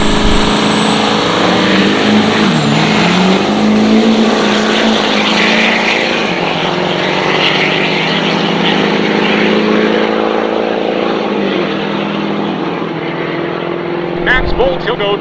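Diesel pickup trucks, Duramax, Powerstroke and Cummins, roar loudly down a drag strip, engines droning and shifting pitch, while an announcer talks over the race.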